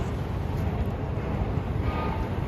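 Rumbling subway train on the 7 line at Hudson Yards station in New York City, a steady low roar of wheels and cars that continues without a break, with no talk over it.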